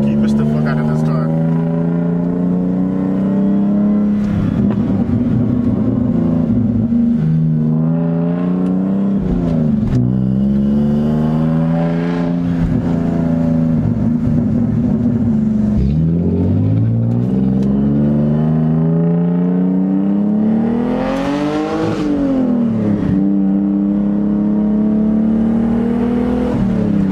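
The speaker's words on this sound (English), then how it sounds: "This car, even though it's so slow, it sounds so great." An Infiniti G35 engine drones while driving, rising and falling through repeated revs and gear changes in a loud, throaty cabin hum.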